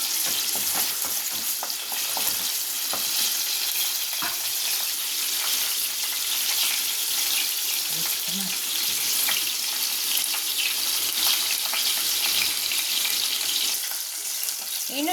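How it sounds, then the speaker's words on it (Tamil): Onions sauté in a pan with curry leaves for a Tamil mutton curry, making a continuous, fairly loud sizzle with scattered clinks and scrapes of stirring throughout. "அடுத்து வெங்காயம் போட்டுக்கலாம் வெங்காயம் நல்லா சவக்கட்டும்"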